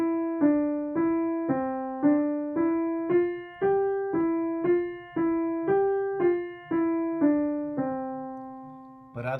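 Single notes of a one-handed music exercise sound on a keyboard in a steady, even sequence of about a dozen clear, sustained tones, each decaying before the next, played alone without talk.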